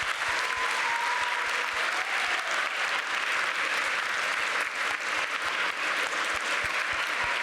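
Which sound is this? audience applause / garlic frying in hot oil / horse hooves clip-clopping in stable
audience applause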